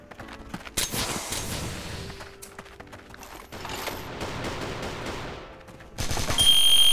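Gunfire rattles in the zombie mode of the online shooter CrossFire, sustained but somewhat muffled under game noise, and it swells louder near the end.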